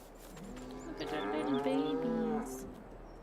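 Cattle on a Farming Simulator 22 farm give one long, drawn-out moo that rises and fades over a couple of seconds, fairly close and clear against a quiet game background.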